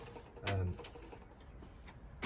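Freshly sown coleus seeds being watered, a faint soft trickle and splash of water with one brief louder pour near the start, in a quiet indoor setting.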